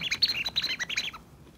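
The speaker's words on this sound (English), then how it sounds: "And this one chirps when we shake it." A shaken toy hamster food container gives off a quick run of high, bird-like electronic chirps and tweets, close and clear, for about a second before stopping.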